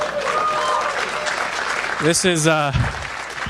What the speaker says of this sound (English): had no idea that would get applause